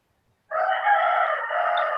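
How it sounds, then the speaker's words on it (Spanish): A rooster crows in the background during an online class: one loud, sustained crow that starts abruptly and holds for over a second, with no talk over it. "Ayala Chiquillán, tu gallo está que te delate."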